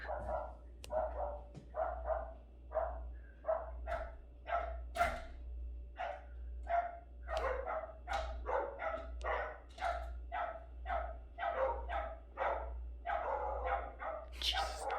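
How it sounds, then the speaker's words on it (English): Several dogs bark steadily and repetitively, a continuous run of sharp barks and yips at a moderate distance that keeps going without pause, with a low hum beneath. "Now they're gonna bark for like the next 20 minutes."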